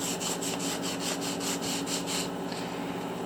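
A sponge scrubs hard rock on a fossil sawfish from Lebanon, making a steady, rhythmic rasping rub with about ten strokes in quick succession and then a softer tail, close and continuous.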